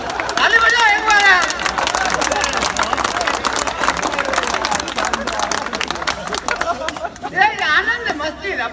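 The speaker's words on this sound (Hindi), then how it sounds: "ताली बजाओ एक बार" Audience at a Hindi poetry recital (kavi sammelan) claps in a crowd, a dense patter of applause mixed with hubbub and chatter, while a voice speaks over it near the start and end.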